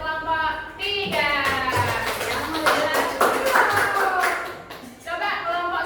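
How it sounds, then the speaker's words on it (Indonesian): Classroom clapping for a student group after their presentation, a mix of scattered hand claps and taps from a class, with children's voices chattering throughout and harmonic vocal sounds over the top. "Tepuk tangan untuk kelompok 3."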